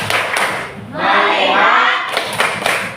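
A sixth-grade class claps along to a focus chant in a classroom, with loud bursts of quick, rhythmic claps at the start and end and a noisy wash of voices in between.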